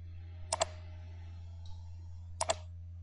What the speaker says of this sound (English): Click on the Windows Start button.